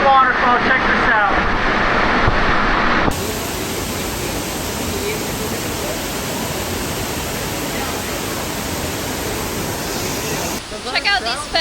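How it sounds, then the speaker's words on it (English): A waterfall in Mexico roars as a loud, steady rush of falling water. A voice sounds briefly at the start. "we are in the waterfall"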